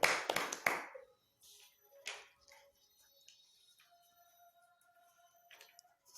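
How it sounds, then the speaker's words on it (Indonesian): A classroom of students during an Islamic history lesson gives a short, close burst of applause at the start, then the room falls quiet with only a few scattered taps and faint noises. "Aplaus kasih untuk Arifin"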